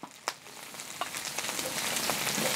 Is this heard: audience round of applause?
no